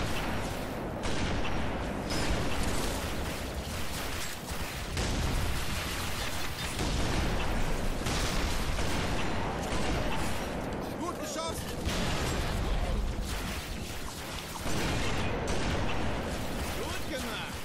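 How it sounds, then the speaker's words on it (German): Gunfire and explosions from the Halo 3 video game rattle and boom throughout in dense, repeated bursts, loud and constant, with someone talking over the combat. "Sie geben den ersten Schuss ab."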